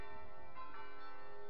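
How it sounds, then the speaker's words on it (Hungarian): Church bells ring to call people to a service, a sustained resonant tolling heard outdoors at moderate distance. "Épp most harangoznak be Isten tiszteletre."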